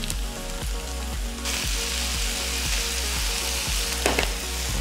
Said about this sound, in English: I'm gonna add the veggies back in. It says to do. That says add some butter.